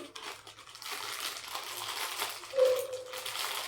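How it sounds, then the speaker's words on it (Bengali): A small parcel of household items is opened close by, with quiet crinkling packaging, soft rustles and a few light clicks in a calm indoor room. "ছোটো পার্সেলটা খুলছি।"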